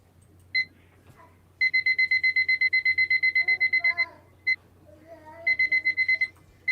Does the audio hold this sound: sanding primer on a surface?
no